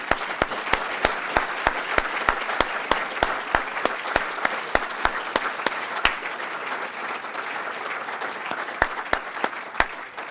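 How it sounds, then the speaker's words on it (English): Audience applause for scholars and parents at a Rotary scholars luncheon, a steady round of clapping from a room of people with a few sharp, close claps standing out repeatedly, no talking. "I think we should give another round of applause to all the scholars and all the parents"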